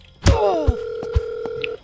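Telephone in the video game Crime Simulator rings with a sharp electronic tone that sustains over the scene, accompanied by a few soft thuds and clicks.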